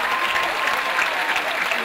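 Dense, continuous clapping from a large audience at an awards ceremony, steady and loud with a faint murmur of the crowd underneath.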